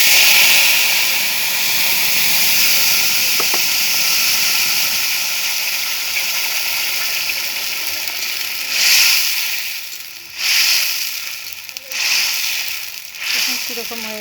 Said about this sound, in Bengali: এখন আমি দিয়ে দিচ্ছি যে টমেটো পেস্ট করে নিয়েছি